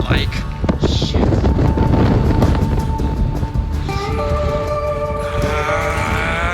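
Strong desert wind in Death Valley buffets the microphone in loud, rumbling gusts, with a faint tonal whistle rising in the second half.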